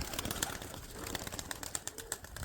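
Pigeons cooing softly among a busy flock, with scattered chirps and light flutters in the background.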